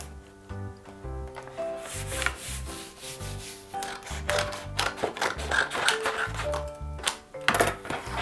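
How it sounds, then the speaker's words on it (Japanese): A glue stick rubs over cardboard with a steady, scratchy stroking sound in repeated close passes, and a low hum runs underneath. "中はスティックのりを塗って、"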